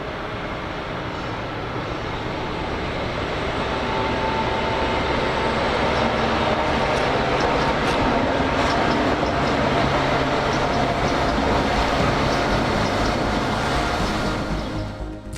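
A British Rail HST high-speed diesel train runs past, a steady, loud roar of engine and rolling wheels on track that builds slightly and holds throughout without voices.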